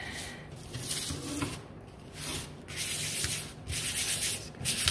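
Wooden bunting flag pieces for a Canada flag being sanded by hand in quick, repeated rubbing strokes, close and steady with short pauses between passes.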